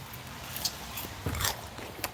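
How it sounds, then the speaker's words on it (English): Cornstarch-coated fried food is bitten and chewed close up, giving soft crisp crunches and scattered crackles over a faint room hum, with no talking. "You could hear me crunch that."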